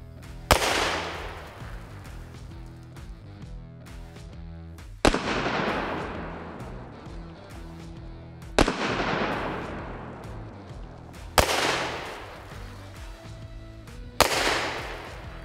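Ruger Super GP100 Competition 9mm revolver with a 6-inch barrel fires five sharp, loud shots at an unhurried pace of a few seconds apart, each followed by a ringing decay.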